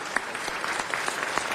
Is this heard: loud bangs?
no